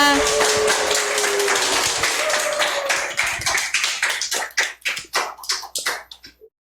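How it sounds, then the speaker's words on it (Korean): Dense applause from a seated audience at a lecture starts loud and steady, then thins into scattered individual claps that fade out to silence. "우리 모든 분들 큰 박수로 환영해 주시기 바랍니다"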